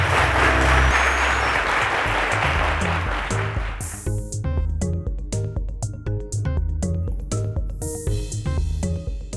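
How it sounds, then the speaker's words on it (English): A studio audience at a Cowbellpedia TV quiz show claps loudly for junior-category contestants in the preliminary round. The dense applause lasts about four seconds, then gives way to a rhythmic music sting. "Ladies and gentlemen, a round of applause to them."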